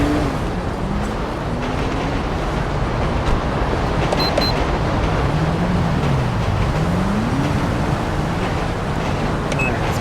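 A car driving in GTA V, a continuous loud engine and road rumble with slowly rising and falling engine pitch and no talking.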